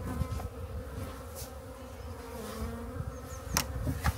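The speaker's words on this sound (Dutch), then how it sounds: "Een mooie bak bijen dit." Honeybees buzzing at a hive during a January colony check, a dense steady hum close by with a few brief louder passes of individual bees, no talking.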